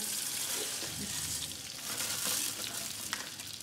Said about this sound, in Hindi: इसको मैं थोड़ा सा घी के साथ में खुश्क कर दूँगी